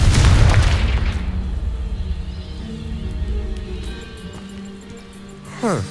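A Confringo fire spell bursts against a pile of objects blocking a stairwell in Hogwarts Legacy, a loud booming blast at the start that rumbles and fades, with a small crackle near the end.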